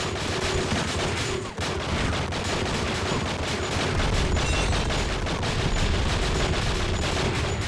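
Gunfire in the video game True Crime: Streets of LA, a continuous loud barrage of dense rapid shots with no pause across the whole stretch.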